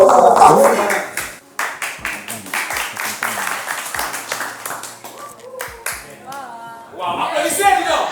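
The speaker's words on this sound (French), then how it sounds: "Wow, applaudissez, dis donc" Clapping from a studio audience at a speed dating show, with distinct hand claps set against speech and crowd noise, louder at the start and again near the end.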